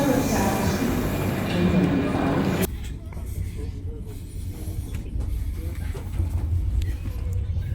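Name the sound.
high-speed train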